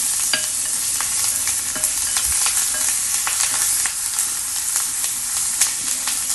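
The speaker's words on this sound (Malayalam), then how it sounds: "മുരിങ്ങ ലീഫ് ഇടുക. എന്നിട്ട് നല്ലോണം ഇളക്കി കൊടുക്കുക കേട്ടോ." Moringa leaves are stirred in a hot frying pan at home, giving a steady close sizzle broken by scraping strokes and light clicks of the spatula, with no voices.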